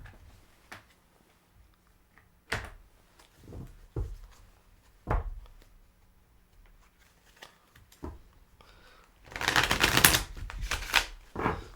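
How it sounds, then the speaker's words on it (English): Tarot cards shuffled by hand give soft, irregular slaps and flicks at first, then a longer, denser riffling burst near the end, close and quiet with no talk. "Now let's take a look and see what cards, when we just do the good old-fashioned shuffling here."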